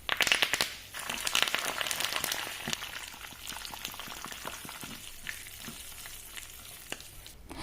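Millet cooking in a pot at a boil, busy bubbling and crackling that starts loud with sharp pops and settles into a steadier softer simmer, no speech.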